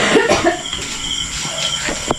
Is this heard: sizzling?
no